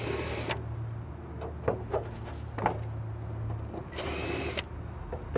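Short bursts of a power drill whirring, starting and stopping, with bits of rubbing and tool handling between them.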